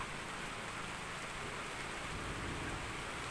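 Steady rain falls over rice fields, a dense, even hiss of drops on surfaces that stays constant throughout, close and moderately loud with no voices.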